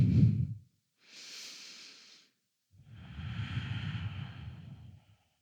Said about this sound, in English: Take one more breath in and out.